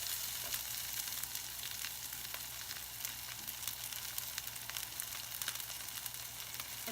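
Clams and green onion stir-frying in a hot pan give off a steady, dense sizzle with small crackles, heard close and continuous with no talking.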